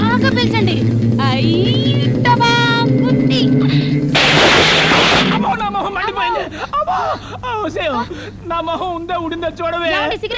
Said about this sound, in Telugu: సిగరెట్ పేలిందేమిటి?